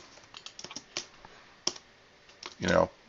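Typing on a computer keyboard while making a text box for a presentation slide: scattered light key clicks, then a short louder burst at the end.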